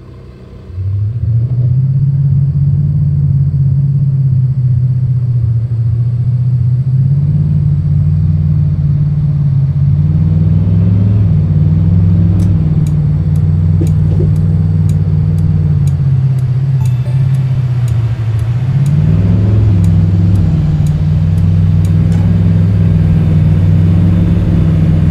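In American Truck Simulator, a 2017 Bentley Bentayga's engine hums as a low, loud, steady drone, dipping and rising gently with throttle over a long continuous drive, and no one talks.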